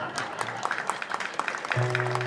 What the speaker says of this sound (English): give a big round of applause to Mary for giving up the day.